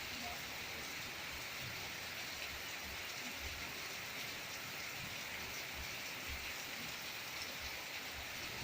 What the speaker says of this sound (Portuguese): Eu gostaria de mostrar para vocês essa chuva gostosa que está caindo aqui na chácara.